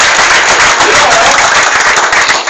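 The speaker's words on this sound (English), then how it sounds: "Can you give him a big round of applause?" Audience applause in a classroom or seminar setting, a dense, steady wash of clapping that fills the whole stretch at close range without pause.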